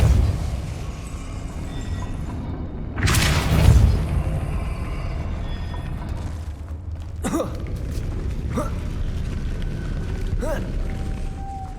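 The Depulso spell in the Hogwarts Legacy video game bursts out as a loud whooshing boom with a rumbling low end, followed by smaller thuds and clicks over a steady ambient game backdrop.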